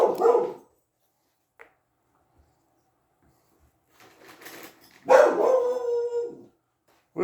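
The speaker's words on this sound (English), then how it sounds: "What is it, boy? What are you barking at?" A pet dog barks and then lets out a longer, wavering howl, in two close, fairly loud bursts separated by a stretch of near silence indoors.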